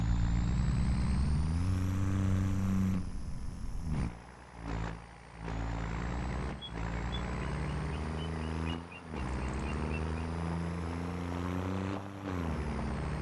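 Cummins-engined truck hauling hay bales in Farming Simulator 25, a loud steady diesel drone with rising and falling engine pitch and brief dips as gears shift, with no talking.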